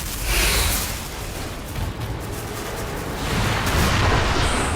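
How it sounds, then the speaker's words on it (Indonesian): A massive explosion in a war film set against Imperial Japanese troops, a bomb thrown at the enemy, heard as a sustained roaring blast with rumbling low end that swells again toward the end. "Masa kemudian melempar bom ke arah musuh dan seketika terjadi ledakan dahsyat."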